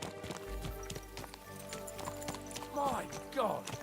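Horse hooves clip-clop in Kingdom Come: Deliverance, a medieval game set in Bohemia in 1403, as a steady trot under game music, with a brief whinny-like sound toward the end.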